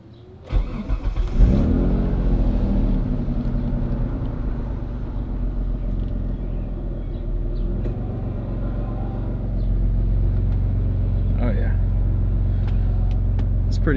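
A 1999 Mitsubishi 3000GT VR4 twin-turbo V6 cranks and fires up, then settles into a loud, close idle with a swell of revving later; a voice is briefly heard near the start.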